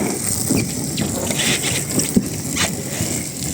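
Strong, steady flow of water from a tap during cleanup on a tinsmithing job, a continuous broadband rush that holds level for the whole stretch, with a few brief splashy bursts and no talking.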